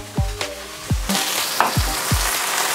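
Beef and chunky white mushrooms stir-fried in a hot pan, takeaway style, a loud continuous sizzle with repeated low thumps and scrapes as the ingredients are tossed, close up and without speech.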